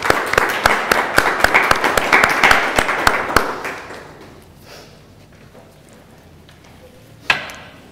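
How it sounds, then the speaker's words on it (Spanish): An audience applauds to welcome María Zaragoza, a dense burst of clapping that thins and fades out over several seconds, followed by a single sharp knock near the end. "Recibimos, por favor, con un aplauso a María Zaragoza."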